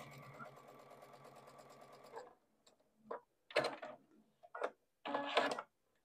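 A sewing machine stitches a quarter-inch seam on a Crown of Thorns quilt block, running in a steady whirring burst at first, then in short stop-start spurts of stitching, close and clear.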